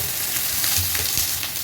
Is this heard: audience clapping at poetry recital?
no